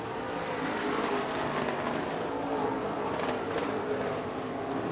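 IMCA race cars at Central Arizona Raceway in Casa Grande, a steady broad engine roar from the pack at a distance, sustained with slight swells as cars pass, no voices over it.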